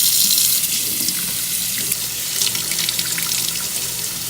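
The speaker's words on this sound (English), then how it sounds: "I'm gonna run some cold water" Cold water runs steadily from a bathroom or kitchen tap into a sink, a continuous close hiss and splash with no pauses, used to rinse a makeup sponge.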